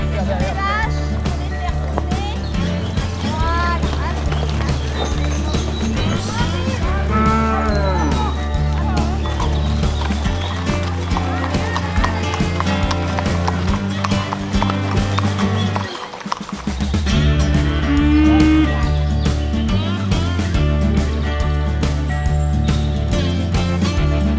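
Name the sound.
herd of Black Angus cattle mooing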